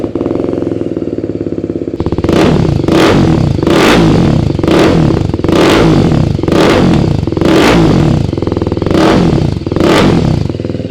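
A Ducati V4 S motorcycle with an aftermarket exhaust idles, then revs hard in a series of sharp, evenly spaced throttle blips, a loud, raspy exhaust roar close by with no talking.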